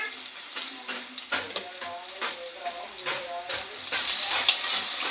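Green chillies and onions hit hot oil in a pan, crackling and sizzling close by with stirring scrapes, while a voice speaks intermittently; the hiss swells louder toward the end.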